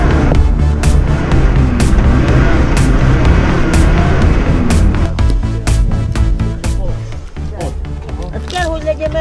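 A van's engine revs hard while stuck in deep sand on the Trans Euro Trail in Hungary, a loud churning roar with sharp clanks and bangs, and people call out over it.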